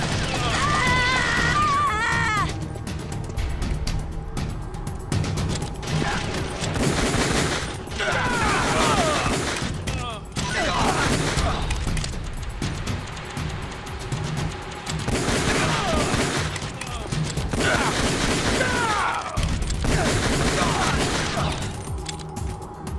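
Gunfire in Metal Gear Solid: The Twin Snakes erupts in loud, nearly continuous volleys and bursts, broken by short lulls, with voices heard between the shots.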